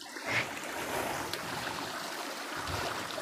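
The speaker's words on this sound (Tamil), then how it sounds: "இது என்ன சின்ன ஓடைங்களா?" A small forest stream flows with a soft, steady watery rush, close by and without voices.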